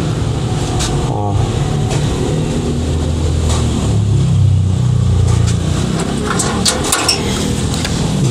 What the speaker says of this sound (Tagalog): ang makina niyan R2 Mazda diesel